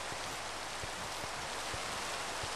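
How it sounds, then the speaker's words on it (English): Rain in the Minecraft video game, a steady wide hiss of falling drops with soft patter, even and moderately quiet across the whole stretch, no talk. "Oh no, not Rain."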